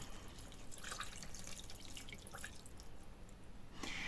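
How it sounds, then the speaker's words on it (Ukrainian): Ice-cold water trickles and drips into a raw meat loaf mixture for Leberkäse in a kitchen, a faint, close, uneven patter of small splashes with no talking. "І сюди ж обов'язково додається холодна, можна навіть льодяна вода."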